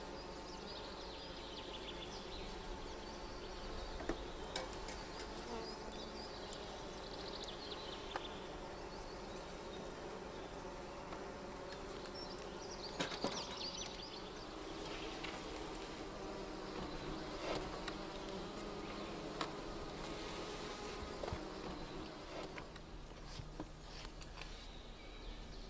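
A honeybee colony selected for vitality and breeding hums with a steady, dense buzz of many bees. The drone holds throughout at moderate level, with occasional brief louder passes of individual bees close by.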